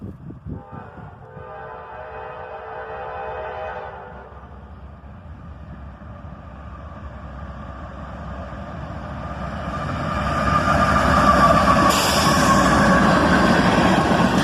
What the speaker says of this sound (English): A single AC-44 CW pulls this train, and in the Y&2 paint scheme.